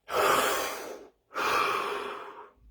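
Two long, deep breaths sound close to the mic, each a full rush of air lasting about a second, separated by a short pause, during a guided muscular-release relaxation session. No one speaks.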